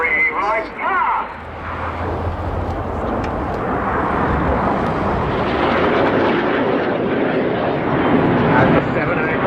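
A formation of seven aerobatic display jets roars loudly overhead as they pull up to the vertical at an airshow, a continuous powerful jet rumble with a commentator's voice heard briefly at the start.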